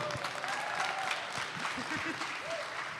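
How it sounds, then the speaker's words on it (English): An esports audience at a VR gaming LAN event in Amsterdam applauds a winning team, steady dense clapping filling the hall for a few seconds with a faint voice underneath. "can we give these guys a massive round of applause for their win here?"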